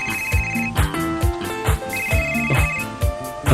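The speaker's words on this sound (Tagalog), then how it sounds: "Oh, ang akong cellphone." A mobile phone ringtone plays a repeating electronic melody, loud and close, with bright tonal notes cycling in a steady rhythm throughout, no voices over it.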